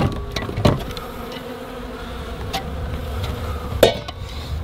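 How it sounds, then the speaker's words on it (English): A dense, steady buzz of many honey bees fills the clip, close and continuous, broken by a couple of sharp knocks. "We'll get the bees out of here."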